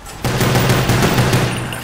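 Rapid gunfire in Black Ops Zombies breaks out abruptly and keeps going as a loud, dense burst of repeated shots close up.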